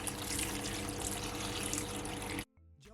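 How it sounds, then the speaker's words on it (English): Water pours steadily from a kettle into a cooking pot for about two seconds, a loud continuous splashing rush that stops abruptly. "I'm gonna add some water from my kettle because I want it to cook quick."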